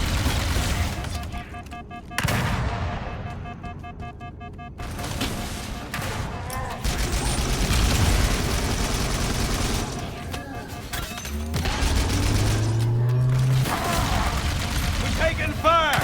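Gunfire rattles through a Halo match in bursts and single shots with booms and mechanical clatter, mixed under excited voices of players talking.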